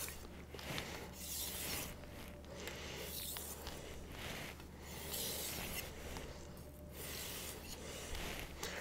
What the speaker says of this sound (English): the edge is being pushed into the stone, the same sharpening angle that I sharpen the knife